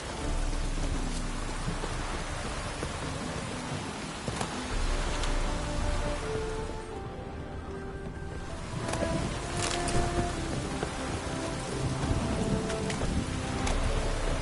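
Steady, heavy rain pours down in The Witcher 3 as a dense, continuous hiss of drops striking surfaces, with a low rumble of thunder rolling underneath throughout.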